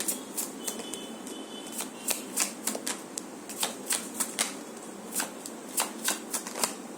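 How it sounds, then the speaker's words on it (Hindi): A deck of tarot cards is shuffled close by, with quick crisp bursts of flapping, clicking cards repeating in an uneven rhythm over a quiet background and no talking. "जितना कार्ड आएगा वन शफल में उतना ही लूंगी"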